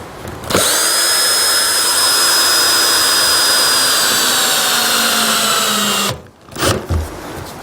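A power drill whines loudly and steadily for several seconds while driving a fixing through wood fibre insulation board into a timber frame stud, then cuts off, followed by a few short handling knocks.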